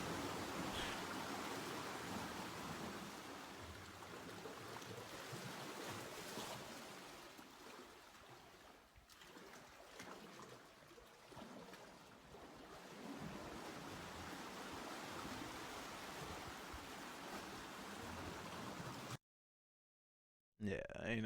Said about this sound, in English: That water start getting way too strong.